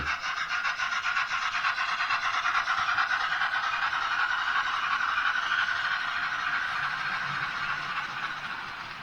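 An over-length model train runs on a model railway layout, giving a steady, even whirring hum that carries on without pause and fades slightly at the end.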